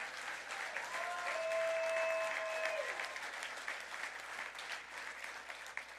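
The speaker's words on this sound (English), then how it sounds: "Please also give a round of applause to the diamonds of my heart, my daughters, Gabriella and Sophia." Steady audience applause at a political speech by the Virginia attorney general, sustained and even for the full stretch, with a faint tonal whine drifting through the middle.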